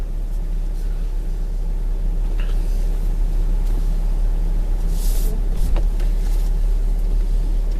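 Steady low rumble from inside a 2001 Acura 3.2TL Type S on a test drive, its engine and road noise droning evenly throughout with faint knocks and brief higher noises.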